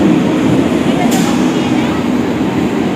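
A train pulls into a station platform, giving a steady, loud, broadband rumble that persists the whole time, with a brief high squeal near the middle.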